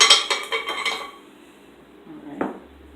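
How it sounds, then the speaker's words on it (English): Cooked, peeled yam pieces dropped into a blender jar for yam punch, a quick run of clattering knocks over the first second, then a quieter pause and one more sharp clink near the end; close and fairly loud, no talking. "so I'm just gonna put it in the blender."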